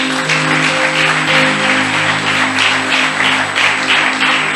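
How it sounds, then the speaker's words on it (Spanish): A church congregation claps for the Lord during a Spanish-language service, a steady rhythmic wash of many hands under a sustained organ or keyboard chord that hums beneath the clapping. "Yo le daré un aplauso al Señor en esta mañana."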